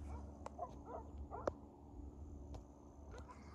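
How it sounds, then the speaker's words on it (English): Faint barks from a dog far off repeat a few times over low rumbling background noise, with a couple of sharp clicks in between. "Been a dog barking back here all morning."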